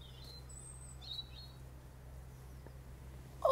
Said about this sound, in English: Oh, listen to that bird.